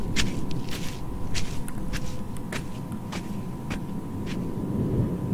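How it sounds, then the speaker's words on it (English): Footsteps in the horror game Mermaid Swamp: a steady run of light, evenly spaced treads over a constant low background hum, with no talking. "now I just hear footsteps."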